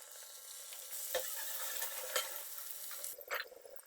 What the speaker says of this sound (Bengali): লবণ হলুদ দিয়ে মেখে রাখা মাছগুলো ভেজে নেব